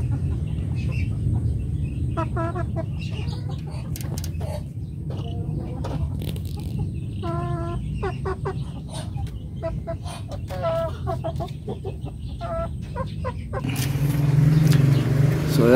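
Breeder chickens in a coop cluck and call repeatedly at close range over a steady low background hum, with a voice speaking at times and a louder rumble near the end.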